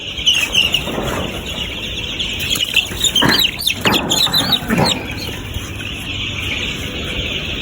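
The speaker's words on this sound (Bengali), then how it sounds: "দেখেন কি পরিমাণ জ্বালা যন্ত্রণা দিতেছে মুরগিগুলা।" Young layer chickens cluck and squawk close by, with a burst of flapping wings in the middle, over a steady background hiss.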